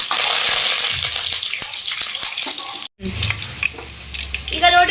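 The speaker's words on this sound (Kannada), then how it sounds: "ಕರಿಬೇವು ಮತ್ತು ಹಸಿಮೆಣಸಿನ್ಕಾಯಿ ನೋಡ್ರಿ ಈ ತರ ಫ್ರೈ ಮಾಡಿ" Curry leaves and green chillies frying in hot oil for an onion pakoda garnish, a close, busy crackle and sizzle with sharp pops, broken by a brief silence midway.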